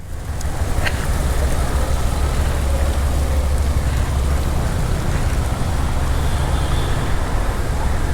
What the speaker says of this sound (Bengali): ঝর্ণা ঝর্ণার মতো পানি পড়তেছে এলিভেটেড ওয়ে থেকে